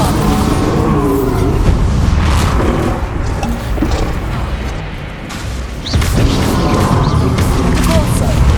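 Confringo and Bombarda explosion spells in Hogwarts Legacy go off as loud booming blasts and crashing impacts over dense game noise, easing briefly midway before surging again, with a voice in the mix.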